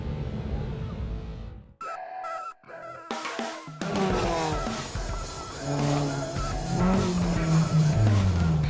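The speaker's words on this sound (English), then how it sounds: "It's a never-before-seen sight as cars pass through the crowded street markets." Rally cars of the JK Tyre Hornbill Motor Rally drive through crowded street markets in Kohima, engines loud and close with tires squealing, a busy crowd murmuring around them throughout.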